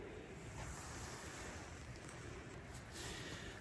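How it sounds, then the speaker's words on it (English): Waterfalls rush with a steady, dense roar heard from a bench beside them on a daylight walk, continuous and fairly loud with some wind buffeting. "You can just like sit here on the side of the thing and listen to the waterfalls."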